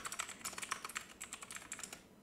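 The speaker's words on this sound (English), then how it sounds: "So I'm just going to type in" Computer keyboard typing while entering song names into a bingo card generator, a quiet, fast run of light key clicks in uneven bursts, close to the microphone with no talking.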